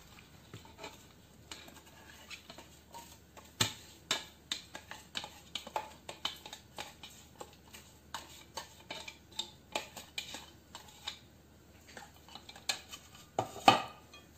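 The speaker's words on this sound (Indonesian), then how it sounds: "Kita aduk lagi." A spoon scrapes and clinks against a bowl while stirring otak-otak fish mixture with ground garlic, shallots and spring onion, in an irregular run of close, sharp taps and scrapes.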